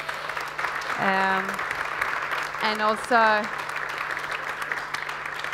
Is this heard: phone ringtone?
no